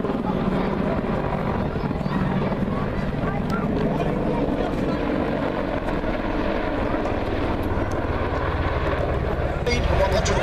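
A 10-ton display helicopter flying at Duxford Air Festival, a continuous loud rotor and engine roar that holds steady throughout, with a commentator talking over it.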